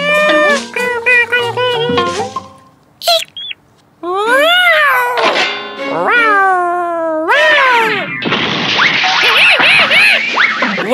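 A cartoon cat yowls loudly in a series of long, wavering, strained meows that rise and fall, building into a harsh drawn-out caterwaul at the end.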